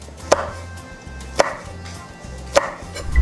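Garlic and red chili being sliced with a knife on a cutting board: three crisp, separate chops about a second apart, close and clear over a low steady background hum.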